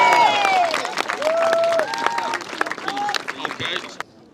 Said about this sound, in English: For the young people, give me a round of applause one more time.